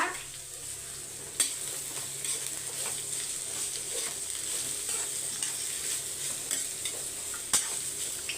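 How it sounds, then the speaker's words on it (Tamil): Steady sizzling of beetroot frying in a pan, with soft scraping of stirring and a couple of sharper clinks against the metal. "பீட்ரூட்டை சேர்த்துட்டு மிக்ஸ் பண்ணி விட்டுருங்க"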